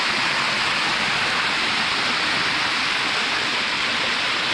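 Waterfall in the middle of a forest, a steady, loud roar of falling water that stays constant and broadband throughout, with no voices.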